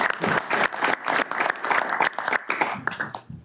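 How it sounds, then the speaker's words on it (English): A meeting audience gives a round of applause, steady rhythmic clapping from a modest group, fairly close and continuous for a few seconds. "So we'll give her a round of applause even though she isn't here."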